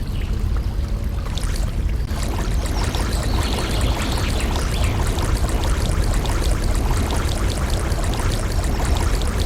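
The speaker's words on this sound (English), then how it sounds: "a river is a body of water that flows downhill, and it's always moving" River water flowing and rushing steadily in the Molly of Denali canoe game, a dense continuous wash of moving water throughout with no talk.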